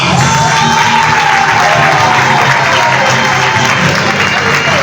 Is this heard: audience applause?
yes